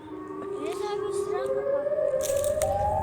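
A Siren Head creature in a video game sounds a long wailing siren tone that slowly climbs in pitch, loud and sustained, with a burst of hissing noise near the end.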